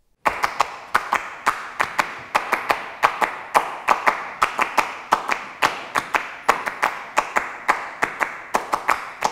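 Hand clapping at the opening concert of the Printemps des Arts de Monte-Carlo: crisp, close, steady interlocking claps in a tight repeating rhythm throughout.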